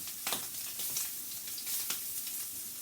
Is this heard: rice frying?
yes